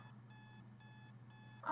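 A digital alarm clock in the Butterfly Soup video game beeps in short repeating bursts, quiet and alone with no talk, before a louder sound cuts in at the end.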